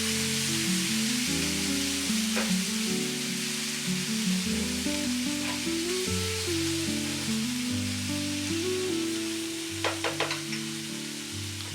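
Tomatoes and onions for paneer bhurji frying in a pan, a soft continuous sizzle under a low steady hum, with a few faint scrapes and taps of a spoon near the end.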